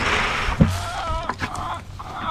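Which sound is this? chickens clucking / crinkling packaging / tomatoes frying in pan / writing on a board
chickens clucking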